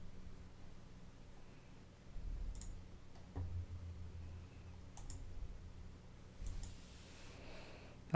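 A computer mouse clicks while running an Azure DevOps pipeline for Terraform. A few faint, sparse clicks sound against a quiet room hum.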